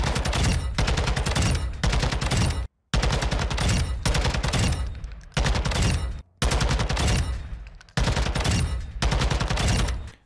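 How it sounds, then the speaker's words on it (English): A TAQ-56 rifle in a Call of Duty game fires at training dummies in loud, sustained automatic bursts, each string of rapid shots broken by short pauses. "So I'm just going to shoot some dummies for you,"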